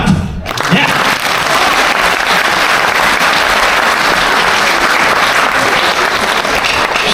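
Audience applause fills a Paris screening of the film 4 Rivers 6 Ranges, a dense, loud, steady wash of clapping from a large crowd lasting throughout after a brief opening moment.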